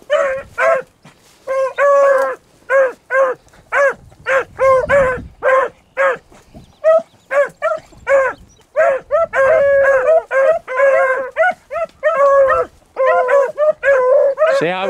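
A pack of beagles at a beagle club trial bark and bay on scent, loud, dense overlapping bursts nearly continuous throughout with short gaps, close to the listener.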